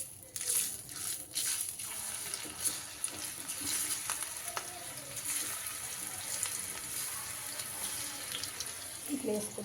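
Rice flour pakoda batter fries in a small pan of hot oil, giving a steady hissing sizzle with irregular crackles and spatters as more batter is dropped in.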